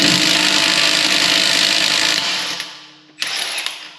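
Cordless 12 volt impact wrench loosening a Tesla lug nut, a loud continuous hammering whir that cuts out near the end, then a brief final burst.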